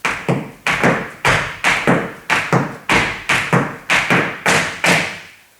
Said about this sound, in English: this time we're going to add both stamps, right and left